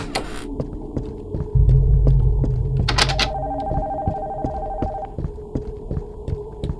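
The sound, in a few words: telephone ringing in an abandoned house, horror video game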